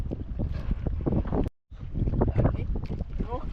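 Strong wind buffeting a microphone on a small fishing boat at sea during stormy weather, loud rumbling gusts with a brief dropout midway, voices talking underneath.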